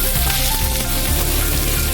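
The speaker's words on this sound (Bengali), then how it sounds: "আমি আলুটা দিয়ে দিচ্ছি।" Potatoes dropped into hot oil in a pan after frying fig dhoka, a loud close crackling sizzle with scattered pops, steady and continuous.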